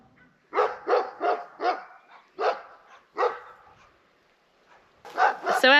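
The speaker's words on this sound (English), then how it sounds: "There's a whole bunch of barky dogs happening over there." Several dogs bark from some distance across an outdoor property, a run of sharp separate barks followed by a pause and then a fresh cluster of yips and barks, with no talking.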